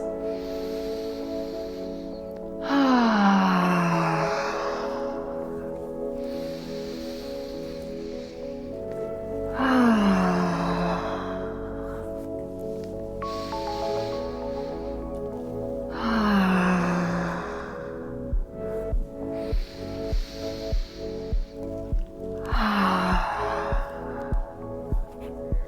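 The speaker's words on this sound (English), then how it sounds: "see if you can bring some sound to these last few exhales" Four long, loud voiced exhales recur roughly every seven seconds during a stress-relief breathwork session, each a breathy sigh sliding downward in pitch, close and clear over a soft steady background.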